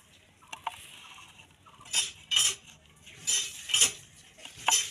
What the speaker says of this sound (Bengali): এইভাবে কুচি কুচি করে চা পাতাগুলো কেটে দিব